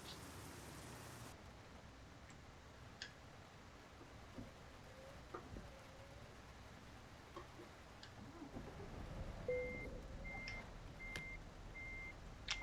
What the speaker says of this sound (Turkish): Havamız da yağmurluymuş.